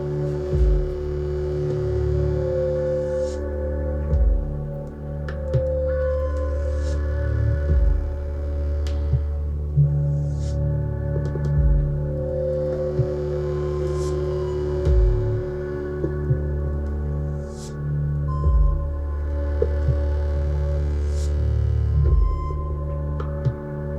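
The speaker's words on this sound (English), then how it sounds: "this is one of the more ambient electronic passages, but you can hear the Baroque instrumentation in the background." Steady ambient electronic music with sustained drones and a low pulsing throb, layered with faint acoustic, Baroque-style instrumental lines drifting in the background.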